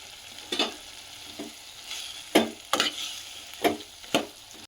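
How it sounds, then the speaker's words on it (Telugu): Tomato and green chili chutney ingredients fry in a pan, with a soft sizzle under repeated sharp scrapes and clatters of stirring at an uneven pace. "విషయాన్ని మంచిగా ఫ్రై కానిద్దాం"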